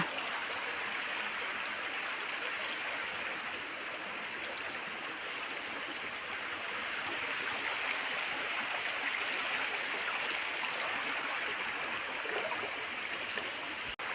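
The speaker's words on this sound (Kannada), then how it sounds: "ಎಷ್ಟು ಚಂದ ಹೊಳೆ ಅಲ್ವಾ" Steady rushing and gurgling of a flowing stream, continuous and fairly close, with no voices over it.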